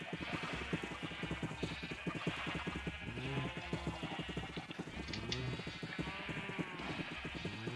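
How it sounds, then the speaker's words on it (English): Sheep bleat repeatedly in a Minecraft game, several short wavering calls close by over a busy background of clopping and game sounds, with no talk. "These are sheep."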